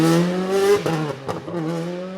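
A WRC rally car pulls away into the opening stage of Rally Japan, engine revving loud and near with rising and falling pitch sweeps through gear changes, no talk over it.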